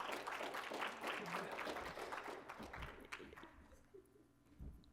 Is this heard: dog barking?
no